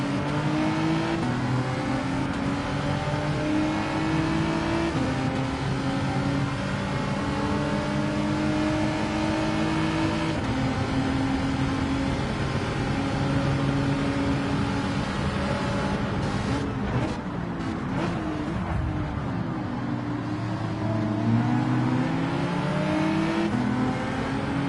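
Race car engines in Gran Turismo 7 roar loudly and continuously, revving up and down through gear changes as cars accelerate in a pack, with a brief drop and swell of pitch near the end.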